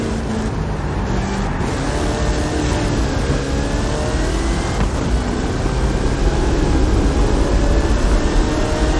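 A Hot Wheels car in Forza Horizon 5 with a 540 cubic inch Chevrolet engine and 66 inch Terra tyres roars loudly and steadily, its revving pitch rising and shifting throughout.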